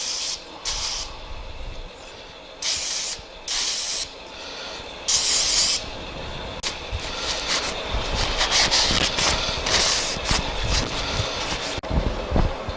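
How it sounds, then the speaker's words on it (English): Carb cleaner sprayed in a garage during a Ford Galaxie revival: several short hissing aerosol bursts, then a longer, denser stretch of spraying with irregular pulses, close and fairly loud with no talking. "Carb cleaner."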